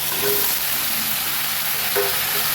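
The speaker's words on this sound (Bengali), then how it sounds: "ওই তেলে এই সবজিগুলো দিয়ে দেবো।" Moringa drumsticks, sweet potato and regular potato pieces sizzle steadily in hot oil in a pan for a Bengali curry, a close, continuous frying hiss with a couple of faint stirring scrapes.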